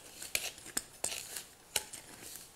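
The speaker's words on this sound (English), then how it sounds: "stir that together" Flour, salt, sugar and baking powder stirred together in a bowl for a cobbler batter, giving a few sharp utensil clicks and scrapes against the bowl with soft rustling between them, close and fairly quiet.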